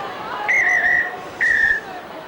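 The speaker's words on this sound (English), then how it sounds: "Only 5 in the match from the whistle of Thierry Alibert." A referee's whistle at a 2009 Super League rugby league match between St Helens and Wakefield gives two sharp, shrill blasts, the first longer than the second, over a faint murmur from the stadium crowd.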